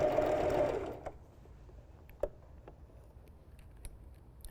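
A home sewing machine stitches a seam through several layers of a tee shirt with a flutter sleeve: a loud, steady whir for about a second, then fading to quiet, scattered ticks and small clicks.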